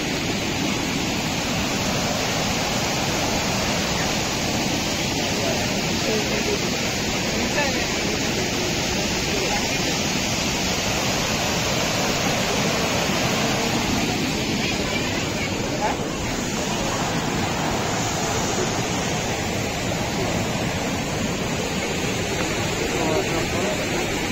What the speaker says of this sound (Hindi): तो देवकुंड वाटरफॉल